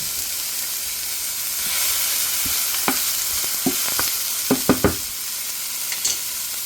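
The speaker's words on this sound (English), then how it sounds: "we're going to go ahead and stir all that in and just kind of let that cook down for a moment" Vegetables for a breakfast casserole are stirred as they fry in a pan: a steady hiss of sizzling with a series of scraping, clacking spoon strokes, several sharp knocks clustered near the end, close and fairly loud, no talking.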